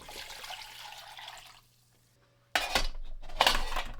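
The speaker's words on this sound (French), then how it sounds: "Je rajoute de l'eau froide, démarrage à froid très important" Cold water splashes and gushes into a pot of meat and aromatic vegetables for a meat broth, heard in a rushing pour, a short silent gap, then two louder bursts of pouring close by.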